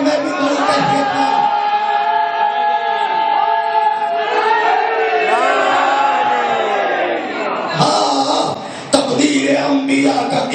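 A large crowd at a religious mahfil gathering in Delhi raises loud, sustained collective chanting and shouts, voices swelling together over a steady roar, with a brief dip and a sharp burst near the end.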